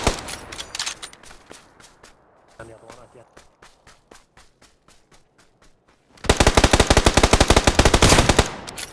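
Rapid automatic gunfire in the battle game PUBG, with dense bursts at the start and a long, loud, close volley in the final seconds, and lighter scattered shots between them, mixed with players talking.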